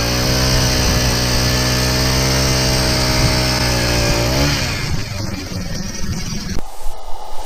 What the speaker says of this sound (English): Power auger.